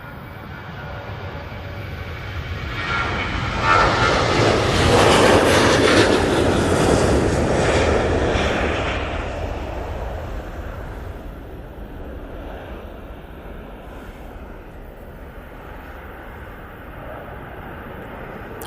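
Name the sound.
Boeing 737 airliner departing Manchester Airport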